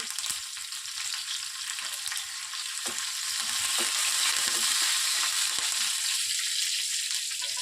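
Mustard seeds, cumin and curry leaves hit hot oil for a tempering in an Andhra broad beans fry: a steady, bright sizzle with scattered pops and crackles, close and continuous, growing slightly louder midway, no voices.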